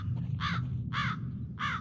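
Crows caw three times at an even pace in the eerie woods of the video game Blair Witch, the harsh calls standing out over a low, steady ambient drone.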